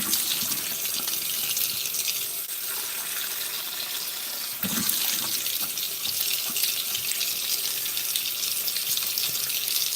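Tap water runs steadily into a sink as a face is wetted, a continuous near hiss and splash lasting the whole stretch with a brief shift midway, with no talk over it.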